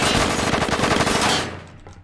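Rapid automatic gunfire in a Roblox copy of Rainbow Six, a dense burst of shots lasting over a second, then cutting off to quiet.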